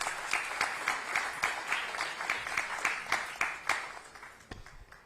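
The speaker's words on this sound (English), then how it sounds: "Can we have a big round of applause?" Applause from a business audience at a chamber of commerce annual general meeting in Mumbai, a steady crowd clapping with distinct individual claps standing out, tapering off near the end.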